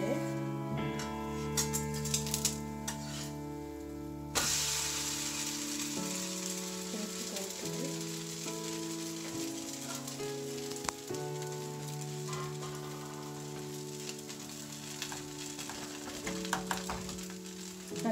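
Dosa batter made with millets (thinai, samai, varagu) and urad dal sizzles softly on a hot pan with oil over medium heat, a faint steady crackle running beneath a sustained tonal hum with occasional scraping clicks.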